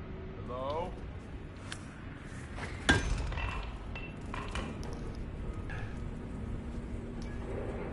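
A hammer strike on a target in the video game Hitman 3, set in Dubai: a single sharp metallic clink near the middle, over a steady game-sound background with some noise around it.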